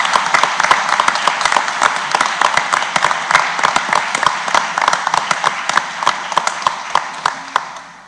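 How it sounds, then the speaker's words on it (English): An audience at a school board meeting gives a sustained round of applause, dense and fairly loud clapping with distinct individual claps, tapering off near the end. "Can we give a round of applause?"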